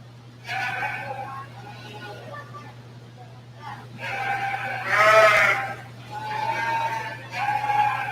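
Hampshire ewes at a 4-H sheep show bleat repeatedly in wavering, nasal cries, one louder and closer, while an announcer talks over a steady hum.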